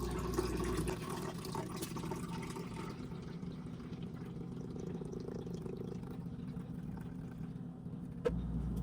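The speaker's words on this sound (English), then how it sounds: "you refill this bottle with fresh water to the top and pour that in as well" Fresh water pouring steadily into the water tank of a Keurig K Supreme coffee machine during descaling, a continuous soft splashing and trickling that cuts off near the end.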